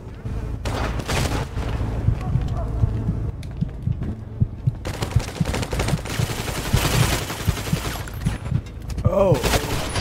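Bursts of submachine gun fire rattle in rapid volleys through a noisy scene, with a short loud stretch early on and more sustained firing toward the end. Voices can be heard in the background.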